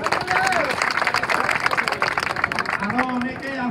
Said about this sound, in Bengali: তো ফেনি বাইক রাইডার্সের জন্য একটা জোরে হাততালি চাই।